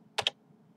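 Computer mouse double click, two sharp, close clicks in rapid succession against a quiet background.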